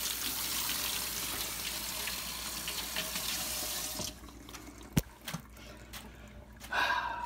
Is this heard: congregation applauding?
no